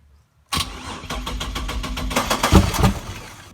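A 3800 Series II V6 in a twin-turbo Camaro build cranks and fires for its first start, catching roughly after a fast burst of starter cycles and settling into a rough, uneven idle, loud and close.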